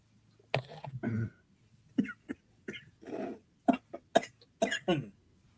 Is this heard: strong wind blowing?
no